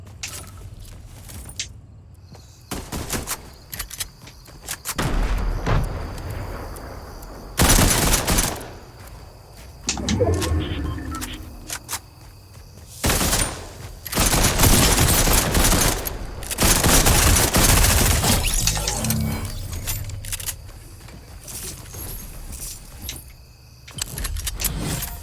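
Gunfire in the Fortnite video game, loud bursts of rapid shots and clattering blasts coming in dense waves, with mechanical clicks and rustles between volleys.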